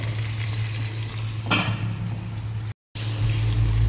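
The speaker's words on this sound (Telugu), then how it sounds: "గోలిన తర్వాత ఉల్లిగడ్డలు కూడా గోలుతున్నాయి కదా" Onions and gongura leaves frying in oil in a home kitchen for a mutton curry, a steady close sizzle with a brief stir scrape and a short gap of silence near the end.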